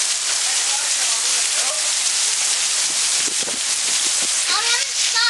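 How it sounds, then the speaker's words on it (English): A heavy hail storm pelts surfaces in a dense, loud, continuous roar of impacts, with voices briefly speaking and exclaiming over the din. "Look at all the hail."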